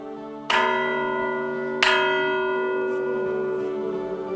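Two loud church bell strikes in a bell tower in Ferreira do Zêzere, Portugal, about a second and a half apart, each ringing out with a long, shimmering decay that overlaps the next.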